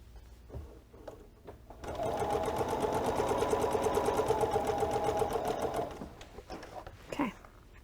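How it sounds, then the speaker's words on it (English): Sewing machine stitches quilt pieces in one steady, rapid run of about four seconds, close and fairly quiet, with faint handling noises before and after. "I'm sewing just a tad bit to the outside of the line."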